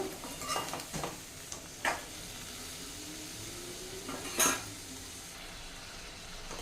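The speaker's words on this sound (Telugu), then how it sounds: "అలాగే ఇక్కడ టమాటా కూడా వేస్తానండి. ఇప్పుడు మిక్స్ చేద్దాం." Tomato pieces are stirred in a pan while chutney is being made, giving soft scraping and a few sharper utensil knocks against the pan over a faint sizzle, with no talking.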